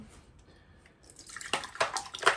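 Pre-warmed water pours into a Römertopf clay pot during cleaning, a faint trickle swelling into a louder, splashing gush over the last second or so.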